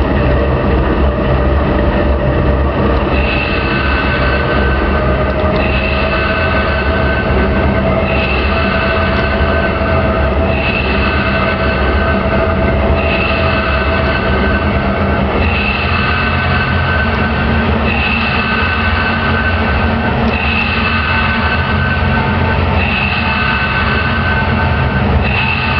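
Freight train led by NS9254 locomotive pulling a BNSF manifest on the main track past a siding, a steady, loud, continuous rumble of engine and rolling cars with recurring tonal squeals throughout, no talk.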